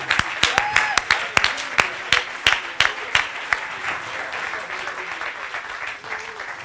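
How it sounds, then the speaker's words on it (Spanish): Church congregation clapping hands in worship, loud rhythmic claps in a steady beat near the front, easing into a softer wash of sound with a voice briefly underneath toward the end. "Clap your hands unto the Lord."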